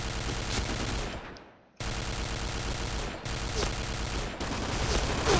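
Sustained rapid gunfire from the Point Blank shooter game, loud and continuous bursts with two brief pauses, dense and close throughout.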